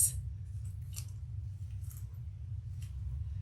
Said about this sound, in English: I'm just going to cut off my excess.